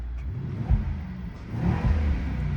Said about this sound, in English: I go into my exhaust off mode and I just go into my comfort mode